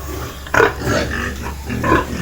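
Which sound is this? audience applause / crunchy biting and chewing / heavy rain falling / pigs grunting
pigs grunting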